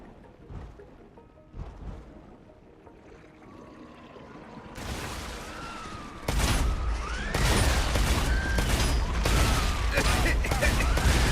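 Rapid bursts of gunfire and booming blasts from enemies exploding in the sci-fi game StarRupture build up, growing loud and dense in the second half over a continuous rumble.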